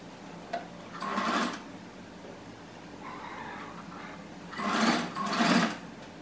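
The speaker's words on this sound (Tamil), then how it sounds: "இதை இப்படி திருப்பி டாப் ஸ்டிச் பண்ணணும்" Sewing machine top-stitching a blouse-piece fabric for a hanging decoration, running in two short whirring bursts near the start and two more near the end, with a quieter mechanical clatter between them and no speech.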